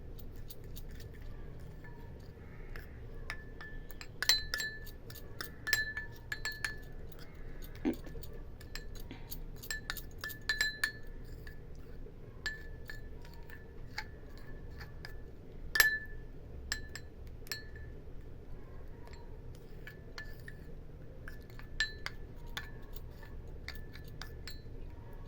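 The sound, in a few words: mixing a sandalwood and multani mitti face pack in a bowl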